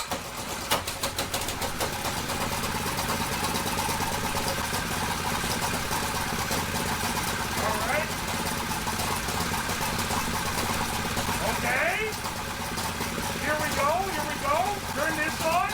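A small engine, choked with fuel on and throttle up, cranks and settles into a steady idle with rough mechanical knocking, while people talk over it throughout.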